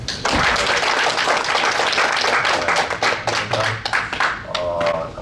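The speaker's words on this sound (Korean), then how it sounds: "일단 박수 한 번부터 칠까요?" Applause from a congregation in a Buddhist temple dharma hall during a dharma talk, dense clapping that runs steadily for several seconds, then thins into scattered claps near the end.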